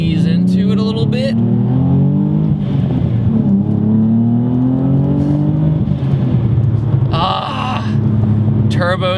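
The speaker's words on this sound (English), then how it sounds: "If you just have the spool sound and have the blow-off valve" A twin-turbo Nissan 350Z revs and accelerates steadily with rising pitch, a whistling turbo spool over the drone, and people talking over it.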